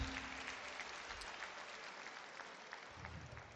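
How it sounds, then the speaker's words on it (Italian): Audience applause at a Novara football club presentation evening in a public square, a steady dense wash of clapping from a large crowd, fairly distant and sustained throughout without pause. "il pubblico ti applaude, ti acclama già"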